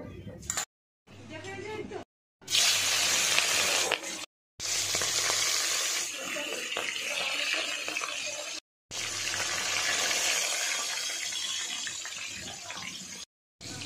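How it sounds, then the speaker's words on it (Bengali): Steady crackling sizzle of pufferfish (potka) frying in hot oil in a wok, loud and close, broken by a few abrupt silent cuts, with faint talk at times. "এখন মাছ ভাজবো।"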